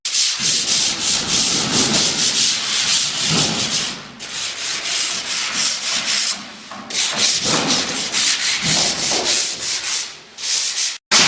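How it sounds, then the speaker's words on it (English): Walls of a Habitat for Humanity house are sanded by hand with sandpaper, a loud, close, rhythmic rasping in repeated strokes with brief pauses between passes. "we are taking sandpaper and just brushing away all of these, whatever is uneven"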